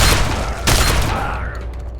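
Sustained gunfire from the video game Fallout 3, a loud, dense burst of shots with a second heavy volley near the middle, then the firing fades into a lingering rumble.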